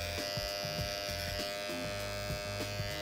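An electric hair clipper edges a hairline during a barbershop fade cut, giving a steady close-up buzz with small pulsing shifts as the blade touches the hair, and no voices.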